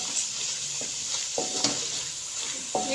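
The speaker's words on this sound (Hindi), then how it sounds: "हमने मसाले को अच्छे से भून लेना है, ताकि टमाटर का ये अच्छा सा पेस्ट बन जाए" Spices and tomato paste frying in a pan, a steady sizzle with a few scraping stirs of a spoon, close and fairly quiet, no voices.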